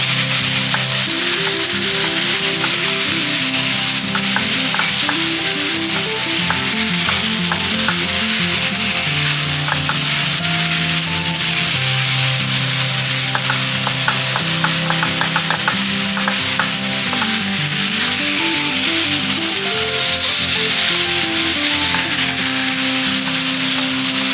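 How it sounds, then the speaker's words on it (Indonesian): Loud continuous sizzling of chicken frying in a wok, with intermittent scraping and clinking of a spatula stirring the pan. "aduk sejenak daging ayam yang telah berada dalam wajan penggorengan"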